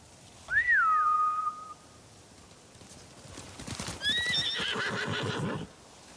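Two samurai horses in Ghost of Tsushima neigh in turn, a high whinny followed later by another mixed with rapid hoof clatter, fairly close with quiet background between.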